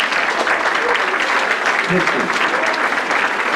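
Indoor Memorial Day audience gives a dense, sustained round of applause that fills the room evenly, with a voice briefly speaking over it.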